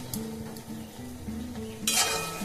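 Posto, a poppy seed dish, simmers and sizzles quietly in a pan, with a spoon or utensil clinking and scraping in a few brief bursts.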